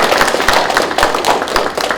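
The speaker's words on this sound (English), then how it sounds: "Can we give them also a round of applause?" Audience applause at a research showcase on a school campus, a dense steady wash of many hands clapping, fairly loud and close, continuing without a break and with no talk over it.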